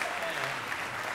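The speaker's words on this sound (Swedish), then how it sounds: "Han kan också få en applåd." A concert audience applauding, a dense, steady patter of many hands clapping at close range for about a second, with no break.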